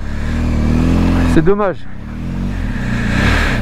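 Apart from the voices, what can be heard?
motorcycle engine revving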